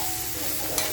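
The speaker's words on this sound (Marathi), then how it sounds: "तो कांदा वरून टाकते आणि बघा 2 मिनिटं फक्त फ्राय करते." Chopped onion frying in a pan for a spicy dried-shrimp chutney, a bright continuous sizzle with a brief stirring scrape near the end, close and alone.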